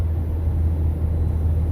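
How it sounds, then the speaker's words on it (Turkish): A steady, loud low rumble of car traffic on a quiet village road along the route to the Tompa border crossing into Serbia, an even drone from a nearby vehicle with no talk. "Bir tane araba geliyor, bir tane gidiyor"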